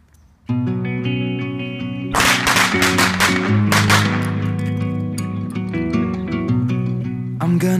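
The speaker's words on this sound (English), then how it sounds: "Blowing it up. This little Lego dude here is in for a ride. Firecrackers." A rapid string of sharp firecracker bangs and crackles pops off in a dense cluster, then scatters into sporadic snaps over a steady droning tone.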